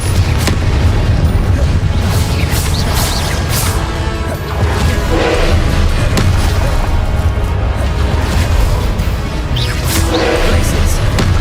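Dense, continuous rumbling booms and crashes from spell combat in the Hogwarts Legacy video game, with the Confringo fire spell bursting repeatedly under loud game audio and faint voice.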